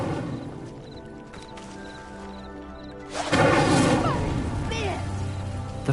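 An Incendio fire spell cast on a pyre in the video game Hogwarts Legacy bursts in as a loud, sudden whooshing roar of flame about halfway through, following quieter game ambience with light rhythmic tapping, then sustains as a crackling rush.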